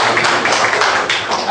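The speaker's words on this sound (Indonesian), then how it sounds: "Tepuk tangan untuk Tuhan." Church congregation applauding together during a worship service, a steady, dense wash of many hands clapping at close range with no pauses over the short stretch.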